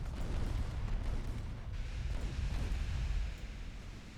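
Continuous deep rumbling of naval artillery fire in Ultimate Admiral: Dreadnoughts, heavy booming salvos blending into a dense, steady roar throughout with no voices.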